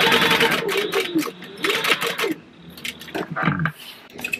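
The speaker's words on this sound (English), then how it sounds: "we're going to top stitch this" Sewing machine top stitching a bag an eighth of an inch from the edge, fast rattling stitch bursts that stop and restart, close by with a person talking over part of it.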